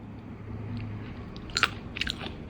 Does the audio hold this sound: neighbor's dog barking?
no